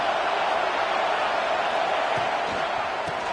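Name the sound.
football stadium crowd cheering near the goal line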